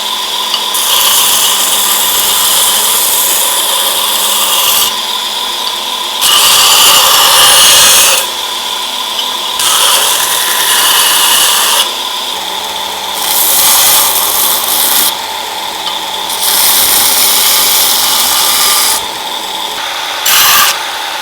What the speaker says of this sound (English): Okay, so I've done a quick grind on there